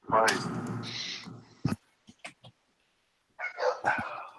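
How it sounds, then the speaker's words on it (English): Dogs bark in short sharp bursts with a yip or two, fairly close and loud, mixed with a person talking at the start and end and scattered single barks in the quieter middle. "now the dogs start barking"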